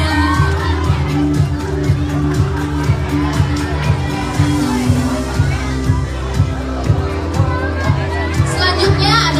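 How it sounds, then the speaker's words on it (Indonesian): A school audience at a debate competition applauds and cheers, with rhythmic clapping and children's shouts over a steady low hum and crowd babble. "Boleh tepuk tangannya."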